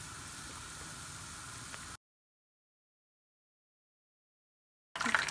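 Battered fish frying in hot oil, a steady, fairly faint sizzle that cuts off into a stretch of silence and then returns briefly at a louder level.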